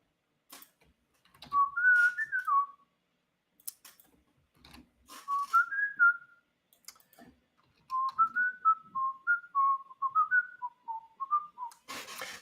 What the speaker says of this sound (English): It's my whistling skills. How about that?